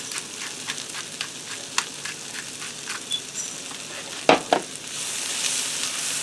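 Onions sizzle in a pan with salt and black pepper over low heat, a soft steady crackle broken by occasional scraping clicks of stirring, fairly quiet and close.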